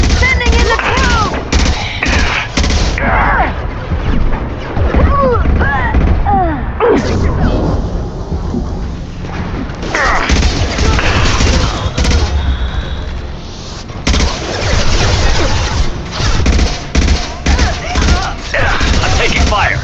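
Rapid gunfire bursts and heavy blasts in a Mass Effect 2 firefight, loud and near, rattling on and off through the whole stretch with brief lulls and voices mixed in.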